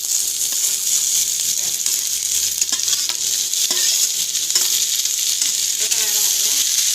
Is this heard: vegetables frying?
yes